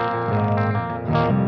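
An electric guitar through an EVH 5150 amp on its clean setting, strummed chords ringing loud and sustained with a slightly gritty, effect-coloured edge, alone without talk.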